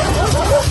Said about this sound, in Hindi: उन कुत्तों के भौंकने की आवाज